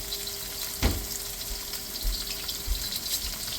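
Beef pieces for Mongolian beef fry in a pan with a steady, close hiss and crackle, a few soft knocks rising now and then through the sizzle, and no talking.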